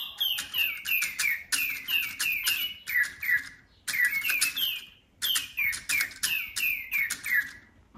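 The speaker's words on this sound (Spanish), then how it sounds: "Los nuevos pajaritos responden a los silbidos, mueven la cabeza y el pico, cantan más de 50 melodías diferentes" Several small battery-powered toy birds, about 8.5 cm tall, sing in chorus. Their repeated whistled chirping phrases are bright and close, come in bursts separated by short pauses, and no one speaks.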